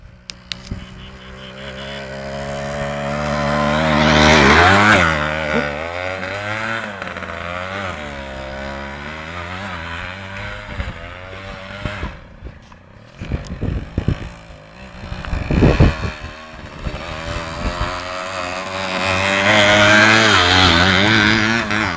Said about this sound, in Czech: Krásná jízda po zadním kole.